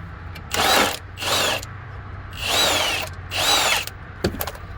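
A power tool such as an impact or drill driver removes a bolt from the front suspension of a Corvette C4, running in four loud, close bursts of whirring with short pauses and small clicks between them.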